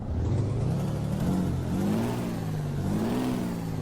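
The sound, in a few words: SCOT A2HD truck engine in American Truck Simulator video game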